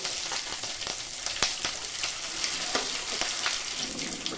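Dried chili, panch phoron, radhuni and bay leaves crackle in hot oil for shukto, a steady close sizzle with sharp spitting pops scattered throughout and no voices.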